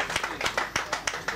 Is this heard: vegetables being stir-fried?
no